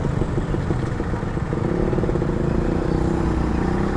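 A Suzuki Max 100R motorcycle engine running under way, a loud close-up mid-pitched throb with steady rapid firing pulses and some mechanical clatter, no talk over it.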